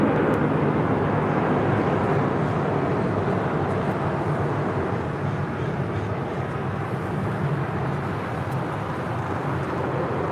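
Boeing 737 MAX 9 taxiing toward runway 25 Right on the south side of LAX, a continuous loud broadband jet engine roar that holds steady throughout with no voices.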